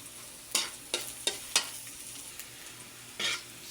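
Garlic frying in a pan until browned, a soft low sizzle broken by several sharp scraping stirs of a utensil against the pan, close and without talk.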